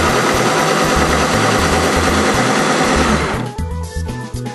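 A cannibalized electric screwdriver drives an electric trim mechanism on threaded rod with a T-nut and weights, buzzing loudly and steadily for about three seconds before winding down into quieter clicks.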